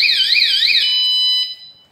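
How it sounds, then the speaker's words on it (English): Onvian smart bike tail light's anti-theft alarm blaring, a loud warbling electronic siren that sweeps up and down rapidly, then shifts to a steady high tone before cutting off. "And that's the alarm."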